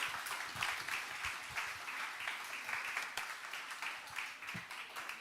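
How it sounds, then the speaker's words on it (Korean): A church congregation at Sunday worship applauds to welcome a speaker; a soft, continuous patter of many hands clapping, fairly distant and even. "우리 한번 큰 박수로 환영해 주시면 좋겠습니다"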